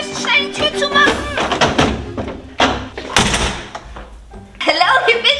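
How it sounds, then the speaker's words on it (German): A door is pushed shut in a hurry inside a home, with a few thuds and knocks among loud voices and general commotion. "wir müssen schnell die Tür zumachen"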